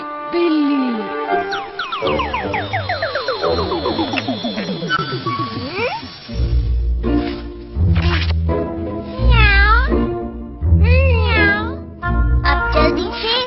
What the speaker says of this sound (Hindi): बिल्ली बिल्ली।